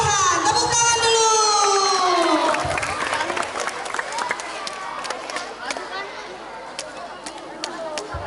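Elementary schoolchildren in a classroom clap in scattered, uneven bursts. High young voices ring out loudly at the start, then fade into a softer background of sparse claps and chatter.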